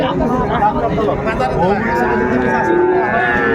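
Sahiwal cattle at a livestock market in Dinajpur, with a drawn-out moo rising over a steady hubbub of voices and trading chatter.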